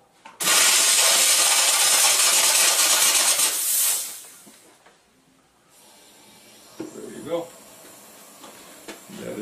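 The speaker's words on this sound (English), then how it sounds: "you steam it. This is going to be loud." A jewelry steam cleaner blasts a ring held in tweezers, a loud roaring hiss lasting several seconds before cutting off, followed by quieter bench clatter and handling noises.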